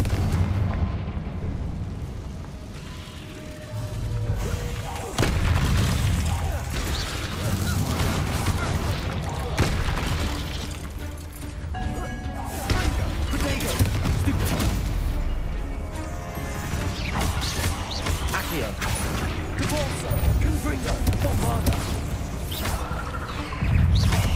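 A Confringo fire spell explodes in the video game Hogwarts Legacy, loud booming blasts amid dense, continuous battle noise and music with voices talking over it.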